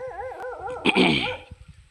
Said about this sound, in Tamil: நம்ம நிற்கிறத பார்த்துட்டு ஒரு நாய் குலைக்கிது